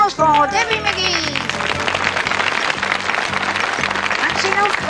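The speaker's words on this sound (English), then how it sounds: "A round of applause for Debbie McGee" A Christmas magic show audience claps for the assistant amid a stage bustle, with a voice and bright music stabs layered over the sustained applause.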